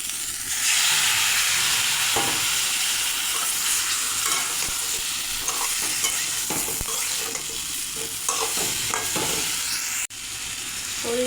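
Cauliflower and potato sizzle and fry in a pan as they are stirred with a spice paste of chili and coriander powders mixed with water, giving a steady hiss broken by scraping stirs and a clack near the end.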